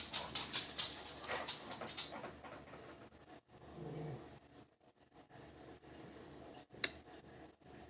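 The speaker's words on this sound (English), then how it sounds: "Hey, no barking." A small dog barks in short bursts early on and then gives a low whimper, with a single sharp yelp near the end, all at moderate loudness with no talking.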